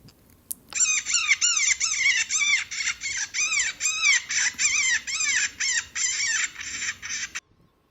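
An electronic jackrabbit distress call plays at night during a hunt, a rapid series of high, squealing cries, harsh and repetitive like a distressed baby rabbit, loud and steady for several seconds.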